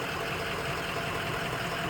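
A 2010 Ford E-450 ambulance engine runs at a steady idle, a continuous even drone with a slight rhythmic knock, close and moderately loud, with no talking.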